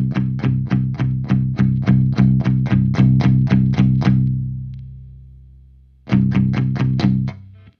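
Electric guitar through a Marshall JVM 410H amp plays rapid, evenly repeated distorted palm-muted chords, lets a final chord ring out and decay, then resumes the chugging rhythm, loud and alone.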